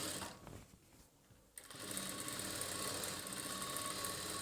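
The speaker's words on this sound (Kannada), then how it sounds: "ನಿಧಾನವಾಗಿ ಸ್ಟಿಚ್ ಮಾಡಿ, ಕಿನಾರಿ ಸ್ಟಿಚಿಂಗು" A sewing machine runs steadily while stitching the folded bottom edge of a churidar, starting after a brief quiet moment and then whirring continuously and evenly to the end.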